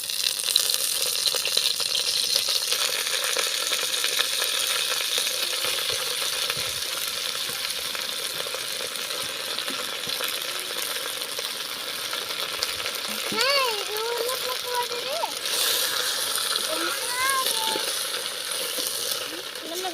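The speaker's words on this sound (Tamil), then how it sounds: "இந்த கீரையும் வந்து சேர்த்துட்டு நல்லா வதக்கி விட்டுறலாம்" Garlic and vallarai (brahmi) greens sauté in hot oil with a steady close sizzle, stirred now and then with occasional utensil clinks, while a voice talks faintly at times.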